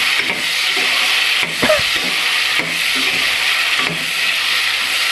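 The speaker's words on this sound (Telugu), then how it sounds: "పచ్చి బఠానీ, క్యారెట్, టమాటో కూడా యాడ్ చేసేసి ఒకసారి ఫ్రై చేసుకుందాం." Peas, carrot and tomato frying in a pressure cooker for veg biryani, giving a steady loud sizzling hiss with a few soft stirring knocks and no talk.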